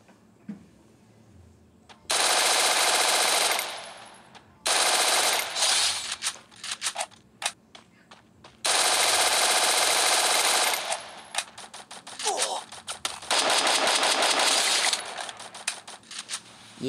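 Gunfire in the Free Fire mobile shooter game: long loud bursts of rapid automatic fire separated by short pauses, close and dominant with almost no talk.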